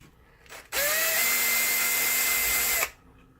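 A power screwdriver whirs for about two seconds as it backs out the last screw on a Sim2 Domino D80 projector during a bulb swap; the steady, close motor whine starts and stops abruptly, with no talking.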